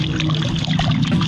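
Water poured from a small container onto the roots of a potted plant being divided, producing a steady, close splashing trickle with no talking.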